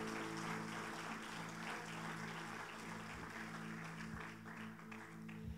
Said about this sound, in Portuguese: Você pode dar uma salva de palmas para Jesus por causa disso?